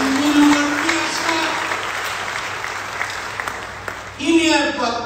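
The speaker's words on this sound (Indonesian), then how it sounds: "Tepuk tangan, ini luar biasa." Sustained applause from a church congregation at a sermon, a dense steady wash of clapping that swells again near the end, with a voice heard briefly over it.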